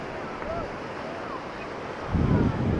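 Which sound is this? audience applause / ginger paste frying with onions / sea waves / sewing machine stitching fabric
sea waves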